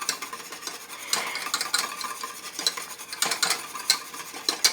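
A whisk and spatula scrape and tap against a pot of thickening chai custard, giving quick irregular clicks and swishes over a soft continuous hiss.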